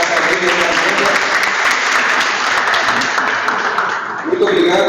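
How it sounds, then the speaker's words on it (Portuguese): Sustained round of applause from the attendees of a community workshop, steady and dense for several seconds, slightly dipping near the end before swelling again. "eu queria sugerir uma salva de palmas para a Camila e a Amanda"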